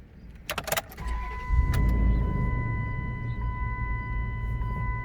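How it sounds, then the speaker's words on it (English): A 2004 or 2006 Dodge Durango engine cranks and starts after a few clicks, then settles into a steady, smooth, fairly quiet idle rumble with a faint whine on top. "that was a pretty quiet startup. It definitely is smooth in my opinion."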